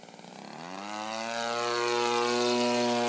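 RC model T6 airplane with a 30cc gas engine in flight, its engine drone rising in pitch and loudness as it approaches, then holding a strong steady buzz.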